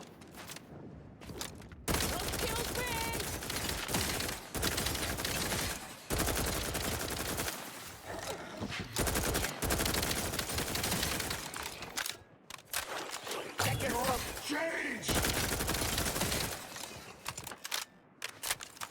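Rapid bursts of gunfire from an efficient gun in a first-person video game, loud and dense, firing in long stretches broken by brief pauses, with no talking over it.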